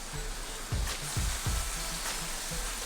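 Fish pieces cooking in a pan, a steady close sizzle with soft low thumps and clinks from handling, no talk.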